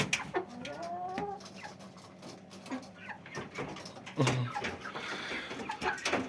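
Broiler chickens feed in a poultry house, with scattered soft clucks and chirps, light pecking and rustling, and a few sharper calls rising briefly near the end over a low, busy background.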